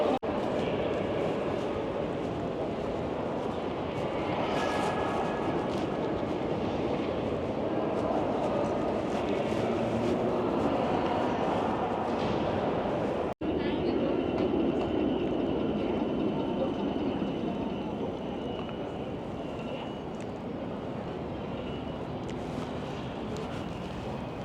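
A Helsinki metro train runs past a station in the city, giving a steady rolling rail rumble and hiss that holds for the whole stretch, heard from fairly close amid outdoor ambience.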